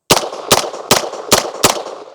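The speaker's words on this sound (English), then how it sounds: "let's just put a couple rounds through it, like we saw in the beginning. There she goes." Five sharp, loud gunshots from a MAT9 roller-delayed pistol-caliber carbine, fired in a steady rhythm about 0.4 seconds apart, each with a short ringing decay and no talk.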